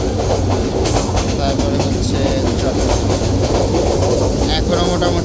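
The Mohanagar Express runs from Dhaka to Chittagong near Bhatiari, heard from inside a carriage. A loud, constant rumble carries a rhythmic clickety-clack of wheels over rail joints.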